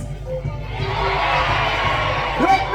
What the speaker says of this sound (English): House of York, cheer if you would steal their best horses.